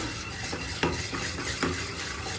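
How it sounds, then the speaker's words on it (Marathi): Curd being whisked in a bowl, a soft continuous churning swish broken by a few sharp clicks of the utensil against the bowl, close and without talk. "दही आता दही फेटून घेऊया"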